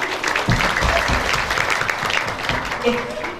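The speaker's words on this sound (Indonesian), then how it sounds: "Kita beri tepuk tangan untuk kita semuanya." Applause from the audience at a church praise parade, a dense, steady patter of clapping under a speaker's voice that carries across the hall throughout.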